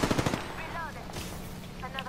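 Rapid bursts of automatic gunfire from an Apex Legends firefight crack loudly at the start, followed by softer scattered shots and game effects, with a voice briefly audible.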